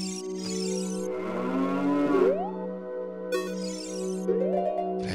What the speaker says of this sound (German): Die liebe Kuh, mach Mu.